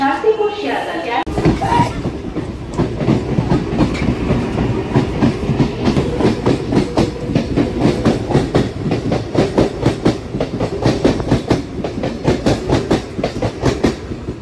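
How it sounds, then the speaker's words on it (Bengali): A train rumbles into a station at Bogura with steady rhythmic clickety-clack of wheels over rail joints, loud and close, continuing throughout. "ডাউনে একটা ট্রেন ঢুকছে"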